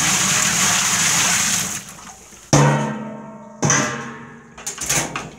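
Excess water dumped out of a dye bucket while transferring dyed items into cold water: a steady gushing pour fading out, followed by a couple of sharp splashes and sloshing.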